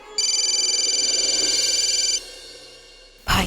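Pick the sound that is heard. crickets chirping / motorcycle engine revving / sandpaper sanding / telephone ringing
telephone ringing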